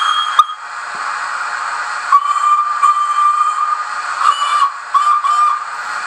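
Digital sound from a model railway steam locomotive waiting at rest: a steady hiss under a thin, recurring whistle-like tone with small clicks, fairly loud and close.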